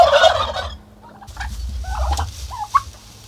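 Turkeys gobbling nearby, a burst of loud gobbles followed by several shorter warbling calls over a low rumbling background.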